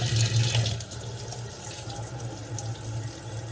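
Water runs steadily from a sink faucet after its aerator was cleaned, a continuous close splashing rush at even strength throughout, with no voices.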